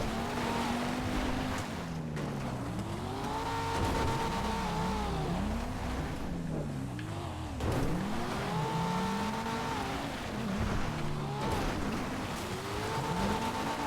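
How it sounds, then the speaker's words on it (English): The 9F sports car in GTA Online climbs Mount Chiliad, its engine revving steadily up and down through repeated gear shifts and swooping pitch sweeps, loud and close, with no talk over it. "This is where the 9F truly shines, going up Chiliad."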